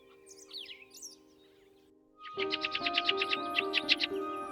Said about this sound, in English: the first creatures to greet the day are the birds. Their songs, movements, and rhythms create a world filled with calm beauty.